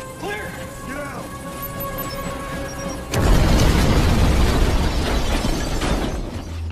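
A sudden loud explosion blasts midway through an action film scene, a broad roaring boom with debris and rumble trailing after, preceded by tense background music and sound effects.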